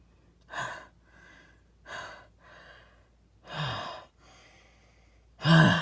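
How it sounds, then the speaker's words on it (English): Heavy, voiced breaths come close and clear, about five separate gasping exhalations spaced roughly a second apart, the last one loudest. "Naruto and Sasuke stood there panting."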